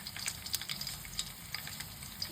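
Mustard seeds and crushed garlic cloves hitting hot oil in a pan: faint, quick crackling pops over a low steady sizzle, fairly quiet and continuous with no voices.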